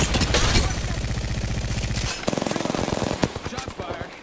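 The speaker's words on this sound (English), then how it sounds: "Shots fired, and they're hitting me" Rapid automatic gunfire rattles in long bursts, followed by sharper scattered shots, in an Apex Legends match on Kings Canyon, loud and close with voices faintly beneath.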